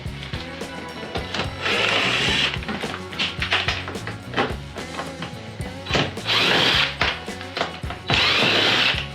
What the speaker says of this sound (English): Any excuse to use a power tool